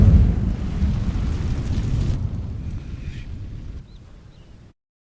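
An Incendio fire spell ignites dry vines in Hogwarts Legacy: a loud roaring whoosh of flame that burns steadily and fades out over about four seconds, ending in silence.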